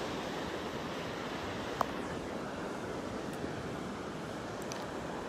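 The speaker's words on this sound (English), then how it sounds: "Seven to 10 miles an hour wind this morning," Wind and surf on Pawleys Island beach on a morning with light wind, heard as a constant broad rushing wash with no breaks, with a faint tick or two and no speech.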